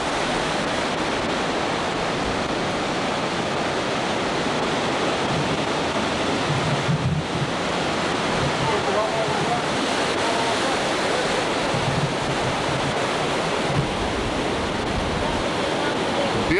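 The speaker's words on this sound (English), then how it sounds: "Here's an ocean view" Steady ocean surf washes in continuously at Oceanside, California, a broad hissing roar of breaking waves with no pauses, loud and close throughout.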